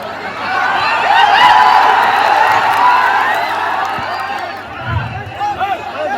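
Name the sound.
crowd applauding and cheering to welcome a politician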